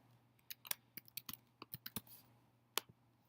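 Keys on a computer keyboard click in a short, uneven burst of about a dozen close, crisp taps while a username is entered, then one last isolated tap after a pause.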